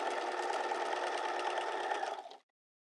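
A sewing machine stitches a facing onto fabric in one steady, close, continuous run of rapid needle chatter lasting a couple of seconds, then stops abruptly into silence.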